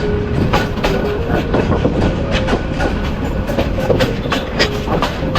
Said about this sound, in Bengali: হয়তো আমরা ময়মনসিংহ স্টেশনের কাছাকাছি চলে আসছি, যার কারণে আমাদের ট্রেনটা স্লো হয়ে গিয়েছে।